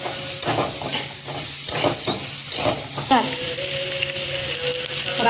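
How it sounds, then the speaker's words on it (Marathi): Chopped onion for chole curry frying in a pan, a continuous close sizzle broken by repeated scraping stirs, with a louder clatter near the end. "आपल्याला हा कांदा थोडा सुकवून घ्यायचे कलर इथपर्यंत कांदा"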